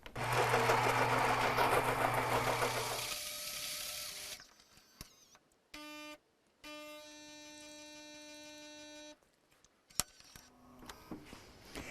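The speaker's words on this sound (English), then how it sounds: "press the espresso button and it will grind and brew that drink fresh for us" A Gaggia Naviglio Milk espresso machine grinds beans with a loud whirring burst, then hums and buzzes in pulses as it brews, followed by soft clicks and drips, no speech.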